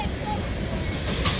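A CP freight train of tank cars hauled by two locomotives rolls past in Winona, Minnesota, giving a steady broadband rumble and hiss of passing railcars that holds even and continuous.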